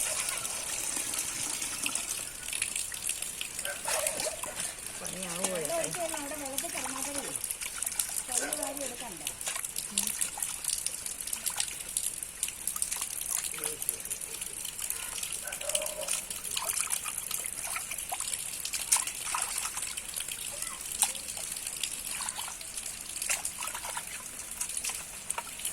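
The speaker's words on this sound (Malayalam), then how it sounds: "വെള്ളം ഒഴിച്ച് കൊടുക്കാം." Water trickles and splashes steadily as it is poured over cleaned Kuttanad backwater prawns to wash them, while a person talks over it.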